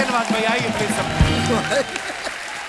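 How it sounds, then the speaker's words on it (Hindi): Applause from an audience at a film cast event for Gangs of Wasseypur, a continuous wash of clapping running under a voice as he speaks over it. "एक बार जोरदार तालियां हो जाए गैंग्स ऑफ वसेपुर की पूरी स्टार कास्ट के लिए"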